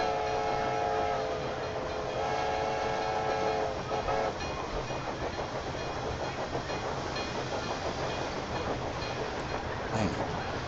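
A train running in Railway Empire 2, a steady, dense rumble and hiss with faint rhythmic clatter and a few tonal whistle-like bands, continuous and fairly loud throughout.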